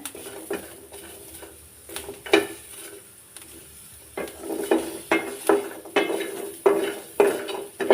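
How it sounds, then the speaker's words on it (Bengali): Garlic, onions and green chillies fry together in a pan under a low sizzle, while a utensil knocks and scrapes against the metal in sharp, irregular strokes that come more often toward the end. "কাঁচামরিচ রসুন পেঁয়াজ সব একত্রে দিয়ে দিলাম তো এখন একত্রে এগুলো ভাজি করে নিতে হবে"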